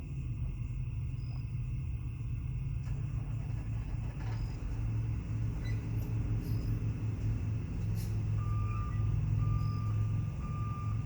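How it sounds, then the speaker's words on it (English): A reversing truck sounds a steady series of high electronic beeps over a constant low engine rumble, with the beeps getting clearer and more regular toward the end as it backs up. "truck backing up right now"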